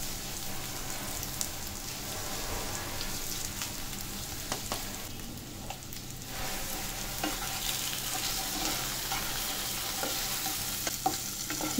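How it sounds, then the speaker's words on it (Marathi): Dry spiced taro (arbi) bhaji stir-fried with chaat masala and amchur in a pan, a continuous dense sizzle and crackle with repeated spoon scrapes and taps throughout, close and fairly loud, no voices. "छान परतून व्यवस्थित घ्यायची एकदम"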